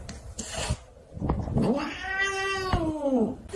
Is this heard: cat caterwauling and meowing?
yes